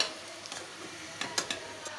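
Vegetables dropped into a pot of khichuri, then stirred with a faint sizzle, soft scraping and a few light clicks of a spoon against the pot, quiet and close.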